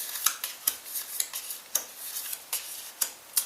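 Playing cards from a football board game being turned over on a table, a series of light, sharp clicks and snaps at irregular intervals, close and fairly quiet, with no voices.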